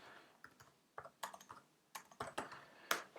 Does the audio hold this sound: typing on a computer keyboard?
yes